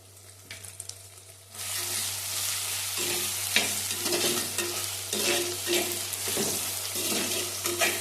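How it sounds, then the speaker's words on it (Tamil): Tomatoes and onions sautéing in oil for a fish curry, a loud crackling sizzle punctuated by repeated stirring scrapes and clinks against the pan, running continuously after a quieter start. "தக்காளி வெங்காயம் ஓரளவுக்கு வதங்கிடுச்சு"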